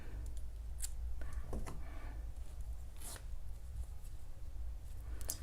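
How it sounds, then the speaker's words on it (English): Scissors snip through crochet yarn with a few quick, close metallic cuts over a low steady background hum, with soft handling rustles between snips. "chain 1 and cut your yarn."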